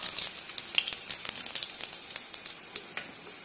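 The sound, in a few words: cumin seeds frying in hot oil in a wok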